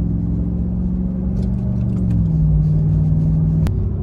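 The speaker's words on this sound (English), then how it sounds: "I'm gonna floor it from this stop sign here and see what happens" A car accelerating hard from a stop with the throttle floored and a Sprint Booster pedal module fitted, a loud steady engine rumble with a pitch that rises then dips and settles, close and continuous with no talk.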